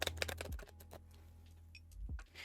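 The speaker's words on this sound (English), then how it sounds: "let me go ahead and do some shuffling" Tarot cards are shuffled by hand in quick bursts of crisp, clustered riffling ticks, with a brief lull before another ripple of flicking near the end.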